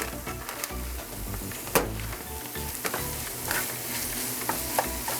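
Philly cheesesteak meat and melting cheese sizzle steadily in a hot pan, with close, continuous frying crackle and occasional stirring scrapes and clicks.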